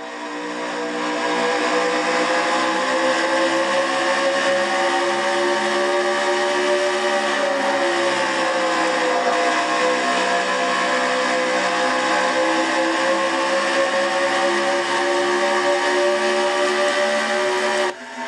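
Race car engine at full, sustained howl on an onboard lap at Rockingham in the FedEx Nationwide Series, loud and steady with pitch shifts through the corners, no voices over it.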